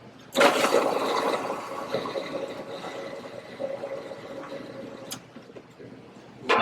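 A food processor kicks on abruptly and whirs with a loud, steady grinding roar for several seconds while pureeing hummus, then briefly dips before revving up again at the end.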